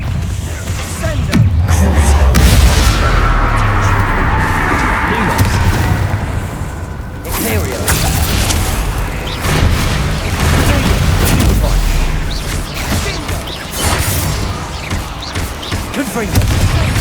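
The Bombarda blasting spell goes off in Hogwarts Legacy, a deep booming explosion with rumbling debris, followed by further thuds and crashes under a busy game soundscape and bursts of talk.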